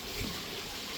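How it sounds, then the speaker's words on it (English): Water leaking from the line of a pond drum filter makes a steady, close rushing gush that stays level and unbroken for a moment. "the leak's just got to the point where it's leaking too much"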